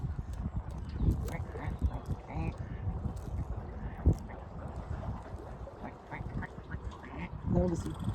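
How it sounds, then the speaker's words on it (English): Ducks quack near and far along a canal beside an electric narrowboat cruise, intermittent calls mixed with water and boat noise while people talk nearby. "I love the sound of ducks."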